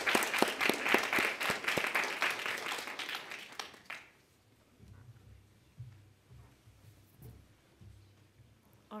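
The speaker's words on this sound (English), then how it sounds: "please help me welcoming our guests, our panelists, with a loud round of applause" Loud audience applause welcoming panelists at a panel on labour organizing and climate justice, dense clapping for about four seconds that stops abruptly, followed by quiet talking.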